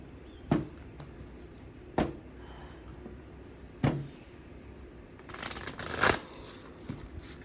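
Tarot cards are shuffled and drawn in a few sharp, separate bursts of riffling and slapping, close and fairly quiet, with a denser flurry of shuffling near the end and no talking.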